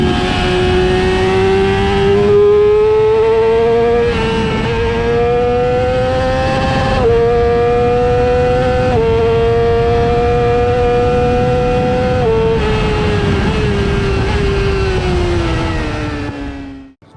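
A 2020 Yamaha R6 600cc sport motorcycle under throttle, its engine screaming high and loud through repeated upshifts, pitch climbing and then dropping at each gear change, sustained for over fifteen seconds before cutting off.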